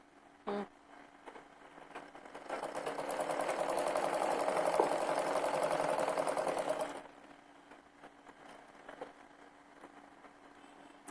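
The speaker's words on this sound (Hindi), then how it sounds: "यहाँ लेके ऐसे सिलाई लगा देते हैं" A sewing machine stitches a kurti sleeve in one sustained run of steady mechanical whirring lasting several seconds, with light handling clicks before and after and no talking.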